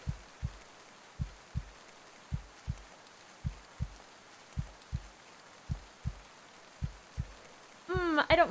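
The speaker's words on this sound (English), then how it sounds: "I don't like that heartbeat." A slow, steady heartbeat sound effect from the Isle of Maligree game thumps in paired low beats about every half second, clear and close, before a brief bright tonal swell at the end.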